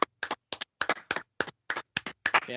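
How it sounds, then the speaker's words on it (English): Crisp, close hand claps in a quick, slightly uneven rhythm, about a dozen sharp claps over a couple of seconds with silence between them. "So let's clap it up for Yankees loss."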